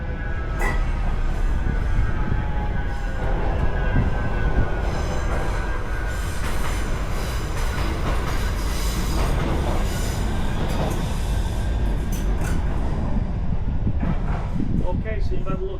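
A tram rolls by on rails at Castlefield Viaduct, Manchester, loud and close, with a steady rumble, metallic wheel squeals and clatter throughout.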